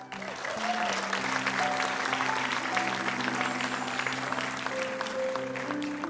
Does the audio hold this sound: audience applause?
yes